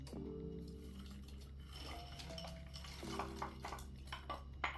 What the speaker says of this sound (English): I'm going to add my veggies, my green peas and my carrots.